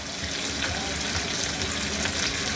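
Chopped onions, green chilies and bay leaves fry in hot oil for egg bhuna, giving a dense, even sizzle that stays loud and close the whole time.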